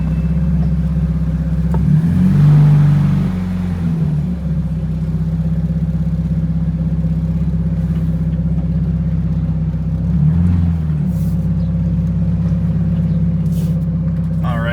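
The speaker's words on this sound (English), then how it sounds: "Just gonna take her on a bit of a drive here, boys, just around the block" A car is driven around the block, its engine droning low and steady up close with a couple of brief swells in revs as it accelerates.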